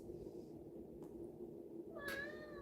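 A cat gives a single short meow near the end, after a quiet stretch with a faint earlier chirp and low room hum.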